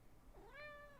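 A single rising meow comes from a nearby cat, brief and fairly quiet, with nothing else around it.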